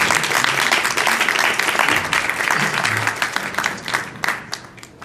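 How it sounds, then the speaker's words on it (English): Audience applause at an Israeli consulate event ahead of a jazz festival concert, dense steady clapping from a crowd that gradually thins and tapers off toward the end. "And I think it deserves applause."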